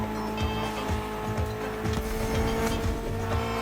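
Mitsubishi inline four-cylinder car engine of about 280 horsepower, built for gymkhana in The Crew Motorfest, runs with a steady drone and throttle pulses, loud and close, with no talk.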